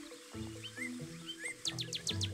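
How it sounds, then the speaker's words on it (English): A northern cardinal sings a series of bright, clear whistled phrases, fairly close, rising into a rapid run of repeated notes near the end. "Take a look at this cardinal as it sings"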